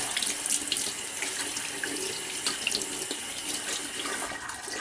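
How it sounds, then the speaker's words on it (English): Steady rush of tap water pouring over beans in a sink during rinsing, a continuous close hiss with faint shifting splashes and no talk. "Good old rinse."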